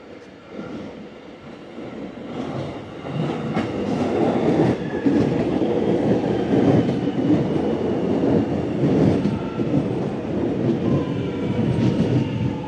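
A suburban train at Hawthorn Station, platform 1, rumbles loud and close with clickety-clack wheel beats and a faint squeal, building steadily as it moves along the platform.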